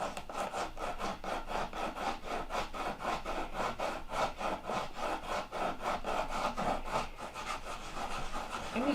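A glued wooden block is sanded by hand, with close, steady back-and-forth rasping strokes repeating in an even rhythm and no voices.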